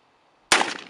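A 12 gauge shotgun fires one loud, sharp blast outdoors, with a short decaying tail after the report and silence just before it.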